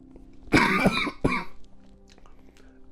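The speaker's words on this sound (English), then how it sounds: "it made me cough" A couple of sharp, close coughs in quick succession, then quiet with faint background hum.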